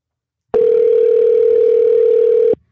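A telephone dial tone hums steadily for about two seconds as a call is placed, a single loud unbroken tone that starts and stops abruptly, with no talking.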